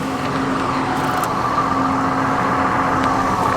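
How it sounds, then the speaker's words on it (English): A truck engine holds a steady high idle with cruise control set, a continuous drone with a persistent hum running unbroken throughout, fairly loud and close with no talk. "So, cruise on, let it high idle a little bit."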